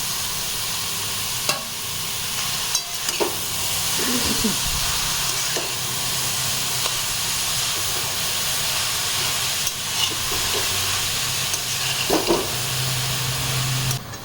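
Grated carrots for carrot halwa sizzle and hiss in a pan, a soft steady frying hiss broken by occasional scraping stirs and clinks of the utensil.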